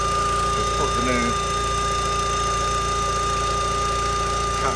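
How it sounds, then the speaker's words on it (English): A car engine idles smoothly at a steady, even hum with no rise or dip in revs after a new catch can was fitted, a faint voice briefly audible behind it. "The tick over is so much smoother."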